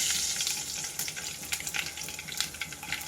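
Urad dal, mustard seeds and cumin hit hot oil in a tempering for Andhra pappu charu, giving a loud, steady sizzle with scattered sharp crackles and pops close by.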